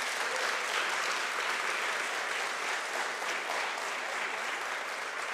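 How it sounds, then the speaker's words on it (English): A conference audience gives a sustained, even round of applause, many hands clapping together in a dense, steady wash that holds for several seconds without fading. "So another big round of applause."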